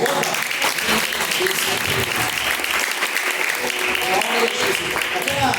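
Church congregation applauding together at a live worship service, a steady wash of clapping hands filling the space without pause.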